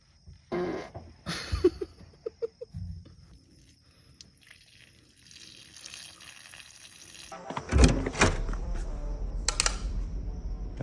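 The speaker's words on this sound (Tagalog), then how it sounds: "Utot ako." A fart rings out in a few short, close bursts near the start, followed by quieter rustling and a louder stretch of noise toward the end.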